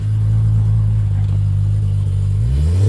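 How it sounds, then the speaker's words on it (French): A Nissan Skyline R32 turbo engine runs with a loud, steady low rumble, and its pitch begins to climb as it is revved near the end. "Je vais mettre quelques coups de gaz."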